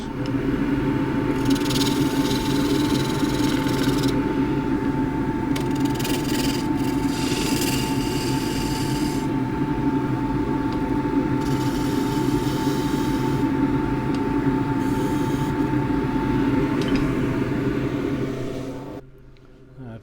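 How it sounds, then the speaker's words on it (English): Wood spindle turning on a lathe with a 1/2-inch spindle gouge, a continuous close rubbing, scraping rasp over a steady motor hum, with intermittent bursts of cutting noise, winding down at the end. "I'll use the 1/2-inch spindle gouge for this."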